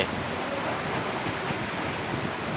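Heavy rain pours down at night in Rajbari, Faridpur, making a dense, steady roar of hiss that stays even and close throughout, with no voices.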